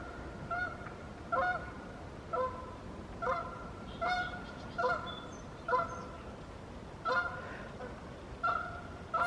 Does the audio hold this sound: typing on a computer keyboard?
no